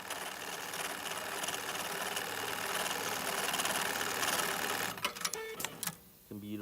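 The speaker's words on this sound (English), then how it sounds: "This machine is set up for Eyelet buttonhole, so it's more of an Eyelet," A Mitsubishi PLK-B03BT programmable eyelet buttonhole sewing machine, made in Japan, runs with a steady fast mechanical whir and chatter, then stops near the end with a few clunks and clicks, close and loud.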